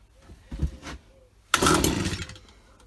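A Husqvarna 24H hedge cutter, choked, gives a couple of weak pulls, then its small two-stroke engine fires in one loud, sputtering burst of about a second that fades away.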